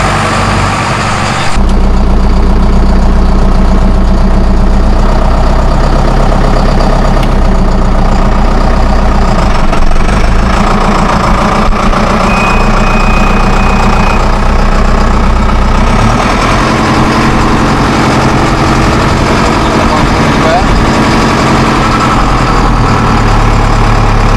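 Zetor Proxima tractor engine running steadily at idle, a loud, continuous low diesel rumble close by throughout, with no talk over it.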